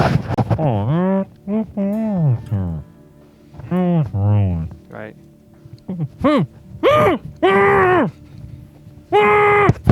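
A voice imitates the sound inside a wind tunnel with a run of sliding, moaning vocal tones in short bursts, close and loud, with a brief spoken word near the end.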